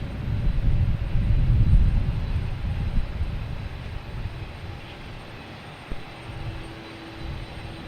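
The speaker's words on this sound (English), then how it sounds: "we got JetBlue coming in from San Diego" JetBlue Airbus A321neo jet landing at Boston Logan Airport, a low rumbling engine roar that peaks early then fades into quieter runway noise, with a faint thump near the end.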